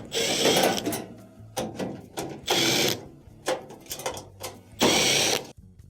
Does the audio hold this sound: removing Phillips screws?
yes